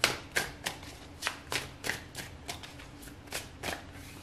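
Tarot cards are shuffled and drawn close by, a steady run of about a dozen crisp, papery snaps at an even pace, quiet and with no talking.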